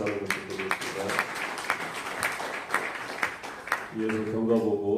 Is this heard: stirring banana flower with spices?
no